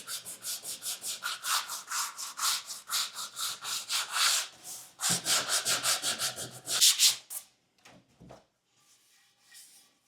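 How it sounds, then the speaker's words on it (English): Repeated hand sanding strokes rub across the bottom of a wooden side table piece, steady back-and-forth scratching close up for several seconds, then a few light knocks and near silence. "Now this is the bottom I'm sanding."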